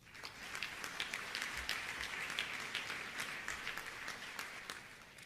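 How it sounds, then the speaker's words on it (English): Large audience applause during a Silicon Valley speech event, a continuous, steady wash of many hands clapping with scattered sharper claps, fairly distant and even throughout. "Please give yourself a round of applause."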